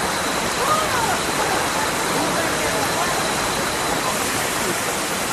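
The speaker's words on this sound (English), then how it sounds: "Oh, the waterfall's full on." Na Mueang waterfall on Koh Samui in full flow, a loud, constant rushing roar of falling water that stays unbroken from start to finish and sounds close by.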